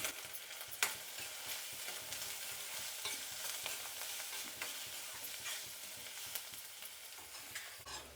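Sliced red onions and curry leaves fry in a pan for a ridge gourd curry, a soft, continuous sizzle with a few sharp clacks of a spoon stirring against the pan, no voices.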